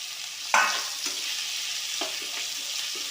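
Chopped tomato and curry leaves sauté in a hot pan for a wedding-style potato and pea masala. A sharp clatter at the start gives way to a steady, close sizzle with light stirring scrapes and no talking.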